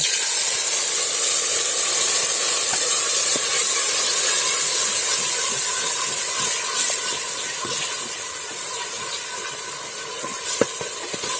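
Ground masala frying in hot oil for ivy gourd palya, a loud, continuous bright hiss and sizzle with occasional small crackles and taps throughout.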